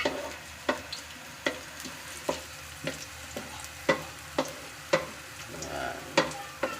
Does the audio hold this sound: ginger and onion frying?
yes